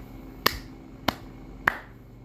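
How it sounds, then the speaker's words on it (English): Three sharp hand claps in a classroom learning demonstration, evenly spaced about half a second apart, each crisp and isolated against quiet room tone. "As neutral stimulus, let's clap 3 times."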